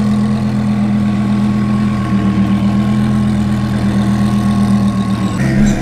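Several high-end cars pulling into a car meet in LA, their engines idling with a steady loud low rumble and hum, a brief rise in pitch near the end.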